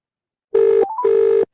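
Two long electronic telephone ring bursts with a short warbling tone between them, loud and clear, heard while a call is being placed and no one speaks.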